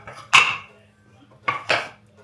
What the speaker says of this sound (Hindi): अब धोने पड़ेंगे बर्तन